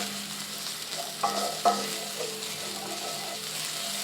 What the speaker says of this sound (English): I love the smell of garlic and ginger cooking.